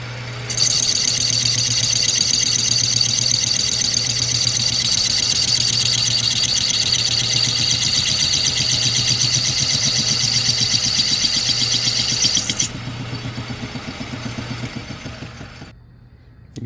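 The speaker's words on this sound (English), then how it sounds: "we're just gonna cut about 8/1000ths off total on the OD" A 1930s Craftsman Atlas lathe turns down the outside of an old bronze bushing, giving a steady hum with a bright high cutting whine that runs for about twelve seconds before the whine stops and the motor winds down.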